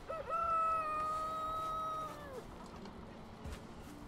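A chicken in the video game Valheim lets out a single drawn-out, crowing call lasting about two seconds, fairly faint over a low ambient background.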